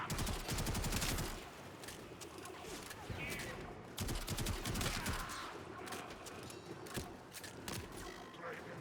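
Sustained gunfire in the video game Warframe, with rapid automatic bursts and scattered single shots over a busy background, and a voice speaking briefly over it.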